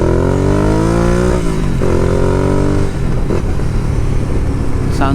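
A motorcycle engine revs hard toward redline, its pitch climbing steeply then dropping and surging again, loud and close throughout.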